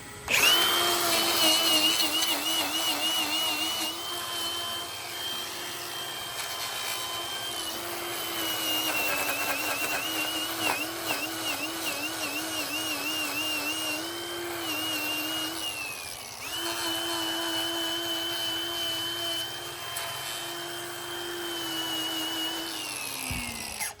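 A power grinder whines loudly and continuously as it trims a hoof, its pitch dipping and wavering under load, then cutting out briefly before spinning up again.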